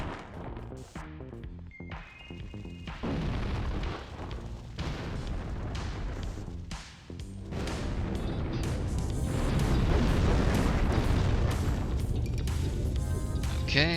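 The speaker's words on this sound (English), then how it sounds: "there is a second explosion there that you can get if you go fast enough" Explosions and crashing bursts in The Thing video game, a dense run of loud booms and impacts layered over game sound, building heavier toward the end.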